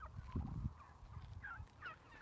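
Turkeys on a turkey farm gobble in quick warbling bursts, close and clear, with nothing else heard around them.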